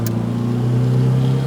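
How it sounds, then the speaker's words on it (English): A 1970 MGB with twin carburettors runs its engine at a steady, loud drone, heard close from inside the moving car with no talk over it. "listen to that engine go, breathing through those twin carbs"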